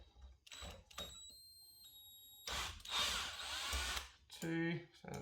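Power drill undoing screws on a lithium battery during a teardown, several short whirring bursts separated by pauses, close and loud.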